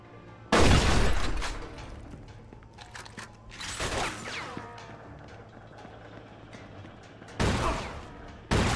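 Gunfire in the crime video game Mafia 2 during a shootout: three loud, sharp bursts of shots, the last two spaced a few seconds apart, with quieter mechanical clicking and rattling in between.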